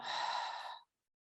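A single long, breathy exhale from a breathing meditation, close and soft, lasting under a second before silence.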